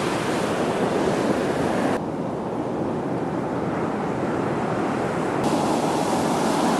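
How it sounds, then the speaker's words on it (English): Loud, continuous roar of ocean surf, with heavy wind buffeting the microphone throughout and no break in the crashing wash. "The waves are crashing hard."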